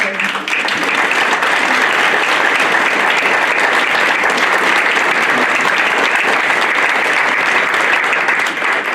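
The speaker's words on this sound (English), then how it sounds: "I think these candidates deserve that applause and more for their commitment" Steady, dense applause from a town-hall audience for the candidates at a 2017 Boulder Junction candidate forum, sustained and loud throughout with no break.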